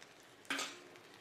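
Leftover idli pieces drop into a hot pan with a sudden sizzle that fades over a second, metal clinking faintly, no voices.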